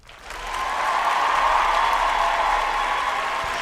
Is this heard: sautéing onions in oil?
no